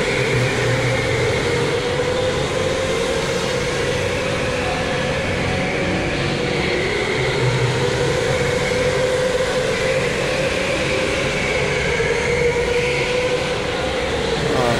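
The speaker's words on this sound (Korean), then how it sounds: "지금 보시는 영상은 엄마들의 레이싱 현장입니다." Go-karts racing on an indoor speedway on the second floor of a shopping mall, a continuous loud, steady engine drone and rumble filling the space without pause.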